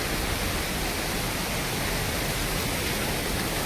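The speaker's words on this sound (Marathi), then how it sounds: "पाण्याचा तुम्हाला आवाज येत असेल" Monsoon waterfalls and rushing streams near Bhandardara in Maharashtra make a dense, even roar of water that holds constant and fills the whole moment, with no voices.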